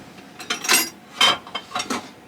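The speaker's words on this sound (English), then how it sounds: "you just drop the cutlery straight in." A few metal utensils clatter and clink into a dishwasher cutlery basket, several quick jangling drops in a row, close by.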